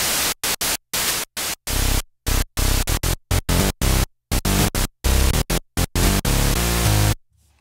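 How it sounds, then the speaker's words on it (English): A Roland synthesizer oscillator produces harsh white noise in loud bursts. The bursts switch on and off abruptly in a choppy, irregular rhythm, with brief silent gaps between them. "you can also have things like white noise as well"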